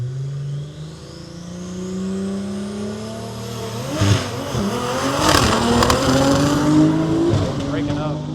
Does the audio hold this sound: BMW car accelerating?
yes